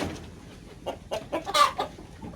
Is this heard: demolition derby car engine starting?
no